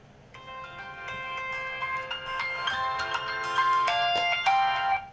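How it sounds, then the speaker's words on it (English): A phone ringtone plays a bright, melodic electronic tune for an incoming call, loud and close, with repeated note phrases that swell slightly toward the end and no talking over it. "Sorry, phone call."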